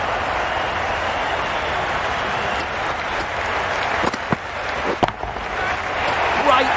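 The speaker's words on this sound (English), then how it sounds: "Will you listen to the crowd? They are loving it." Virtual cricket crowd in Cricket 22 during an Australia versus England T10 match, a steady broad roar of cheering and applause filling the stadium, swelling slightly with a few sharper bursts near the end.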